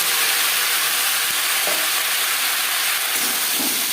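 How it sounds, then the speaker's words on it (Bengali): Whole cumin seeds and dried red chillies fry in hot oil with a loud, continuous hissing sizzle, steady and close, with a few faint knocks of a utensil. "পনেরো কুড়ি সেকেন্ড জিরে শুকনো লঙ্কা ভেজে নেওয়ার পর দিয়ে দেবো কচি"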